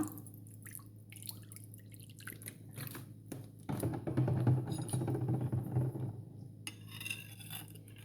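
Water poured into a yeast, sugar and salt mixture for croissant dough: a steady liquid pour with dripping, swelling in the middle and then easing, close and moderately loud with no talking.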